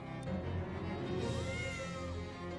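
A cat in a stick figure video game makes a drawn-out meowing, purring sound that holds steady over a dense, continuous game background for the whole stretch.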